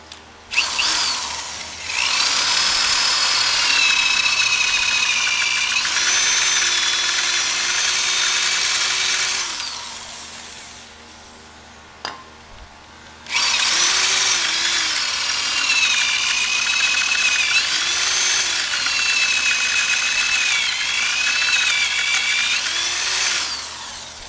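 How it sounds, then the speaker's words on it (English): Power tool grinding through a broken bolt: a loud, sustained high-pitched cutting whine with wavering pitch, running steadily, pausing briefly near the middle, then resuming at full strength to the end. "We've cut almost all of the bolt off"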